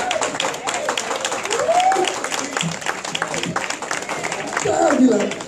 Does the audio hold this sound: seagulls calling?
no